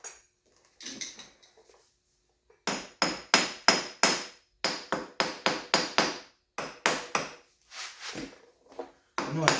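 Metal hammer striking the cylinder of a KTM 125 SX dirt bike engine during a top-end rebuild, no rubber mallet: a fast run of sharp, loud, close blows in quick bursts with short pauses between.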